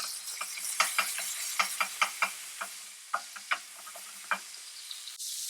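Chicken pieces sear in a hot pan for a chicken coconut bake. A continuous bright sizzle carries many irregular sharp pops and ticks, with no voices over it.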